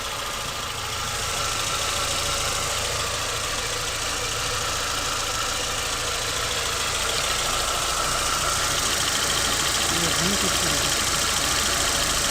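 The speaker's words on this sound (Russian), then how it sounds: "Звук похож как на клапаны." A Renault Logan engine idles steadily up close with a continuous mid-range hum and a fine rapid ticking like valve noise layered over it; a person speaks briefly.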